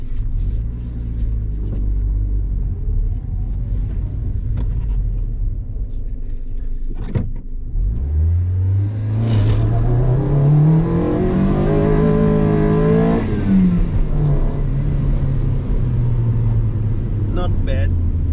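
A forged-carbon-wrapped Honda Civic EK with a naturally aspirated D16 engine drives off, loud and close, with the engine note rising steadily as it pulls through a gear. Low rumble sits under it, and a person talks faintly early on.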